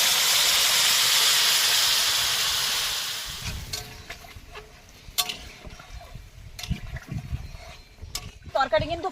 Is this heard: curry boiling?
yes